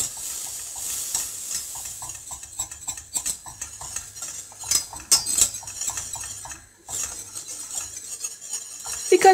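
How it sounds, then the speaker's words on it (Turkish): Flour roasting in a pot on lowered heat for homemade tomato soup, stirred with a utensil that scrapes and clinks against the metal in quick repeated strokes over a soft sizzle, close and alone. "Birkaç dakika unu kavuracağız."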